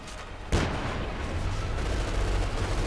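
A tank's coaxial machine gun fires on infantry in Company of Heroes 2 during a 1v1 match, heard as an abrupt sharp blast followed by a dense, sustained rattle of gunfire that carries on to the end, with no talking.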